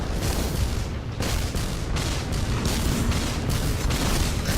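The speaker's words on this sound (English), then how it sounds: "So sniper rifle it was." Sniper rifle shots crack repeatedly during a solo Destiny Nightfall strike boss fight on Venus, loud and dense amid a constant barrage of other gunfire and explosions.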